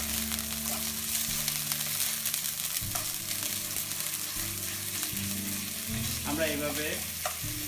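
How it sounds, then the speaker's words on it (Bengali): Salmon and chopped onion frying together in a pan, a steady close sizzle with occasional stirring knocks and a low background hum, while a voice speaks briefly over it. "সামুন ফিশটাকে আমরা ভাজি করব, একই সাথে আমরা পেঁয়াজ কুচি দিব।"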